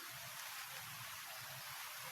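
Rain falls in an even, unbroken hiss with a faint low rumble underneath, steady throughout and free of speech.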